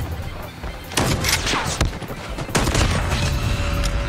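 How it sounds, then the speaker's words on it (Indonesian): Shotgun fire from the legendary HS0405 Songstress in a battle royale shooter, several loud heavy blasts over dense game noise and continuous background clatter. "Tapi ini shotgun bukan main dah, menurut Oca"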